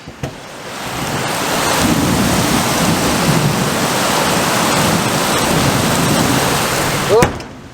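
Loud, steady roar of heavy rain pouring outside, heard from inside a garage, a dense continuous wash with a sharp crack of lightning near the end.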